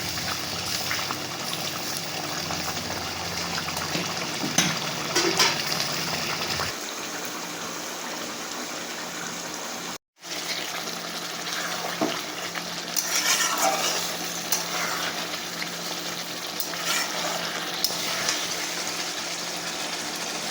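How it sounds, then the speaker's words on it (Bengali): Fish curry gravy boils in a pan, a continuous bubbling, watery simmer that carries on steadily with a brief cut midway and occasional light clinks. "মাছগুলো দেওয়ার পরে ঝোলটা একটু ভালোভাবে ফুটুক"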